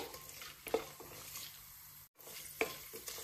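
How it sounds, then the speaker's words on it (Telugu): Cashew nuts fry in a pan until golden brown, a soft steady sizzle with occasional stirring scrapes, quiet and close with a brief dropout partway through. "కొన్ని జీడిపప్పులు కూడా వేసేసుకుని వీటిని కూడా చక్కగా గోల్డెన్ బ్రౌన్ వచ్చేంత వరకు ఫ్రై చేసేయడమే"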